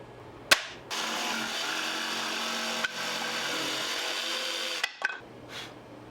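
A power tool runs steadily through wood slab material for several seconds, a loud continuous whine with brief clicks at start and stop, nearby and alone with no voices.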